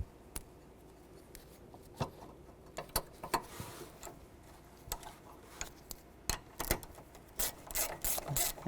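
A ratchet tightens a 10mm bolt in a series of sharp, close clicks, sparse at first and then coming in quicker bursts toward the end.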